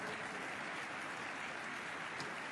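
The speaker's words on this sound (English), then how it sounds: "Every shot being cheered." A snooker crowd at a German Masters final applauds a shot, producing a steady, dense wash of clapping that runs evenly throughout, heard from a distance at moderate level with no voices.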